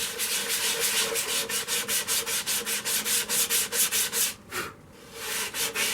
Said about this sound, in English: I'm removing the 80 grit sand and scratches is what I'm doing.